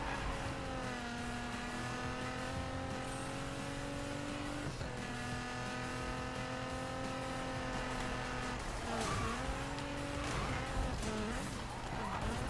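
Race car in the Need for Speed video game, tuned to drift, holds a loud, sustained engine drone with shifting revs and brief tire-scrub bursts, running continuously and alone with no talk.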